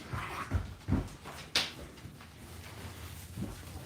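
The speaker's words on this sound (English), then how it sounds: "Calm down, Charlie. That's our dog coughing." Charlie, an old dog, gives a few rough, hacking coughs with a sharp loud one in the middle, fairly close and quiet overall, with faint panting between them.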